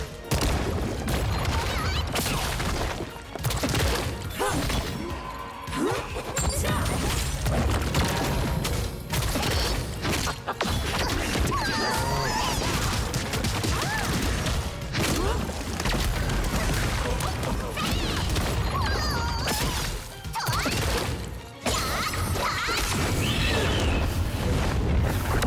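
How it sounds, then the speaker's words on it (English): Dense, continuous video game combat audio rumbles with booming blasts and rapid fire, part of a fight where a big red explosion goes off during a DPS artist build battle. "that explosion, the big red explosion, doesn't damage you for like half of your HP"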